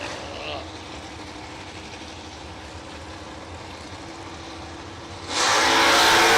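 Third-generation and big-tire Camaros at a New Year Nationals drag race, a steady distant engine drone building into a sudden loud full-throttle roar as a car launches near the end, with a voice talking over it.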